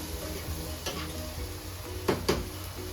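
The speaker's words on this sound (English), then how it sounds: "Try to simmer that a bit." Fire-roasted ranchero sauce simmers in a pan with a soft, steady sizzle and bubbling, while a spoon or pan gives a couple of brief clicks near the end.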